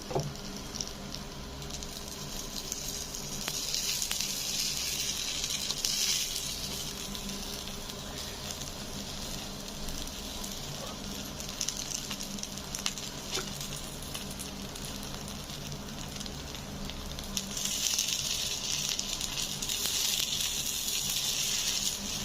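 Kara kuzhi paniyaram sizzle steadily in a pan as they are turned, a continuous close crackle that swells louder near the start and again toward the end, with faint pattering taps and no talking.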